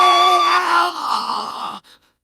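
A synthesized Cozy Glow character voice lets out one loud, drawn-out gasp that rises into a strained, voiced cry, then cuts off abruptly into silence.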